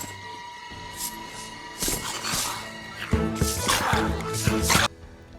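Ancient skeleton in Sea of Thieves giving off its distinctive sound: layered bursts with drippy, liquid squishing textures over a steady tonal game background, loud and close, rising in clusters before cutting off abruptly.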